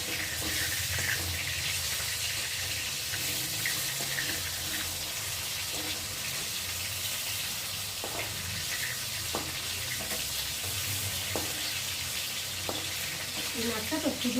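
Tengra fish frying in a pan, a steady broadband sizzle that runs unbroken throughout, with a few faint clicks and scrapes from handling the pieces.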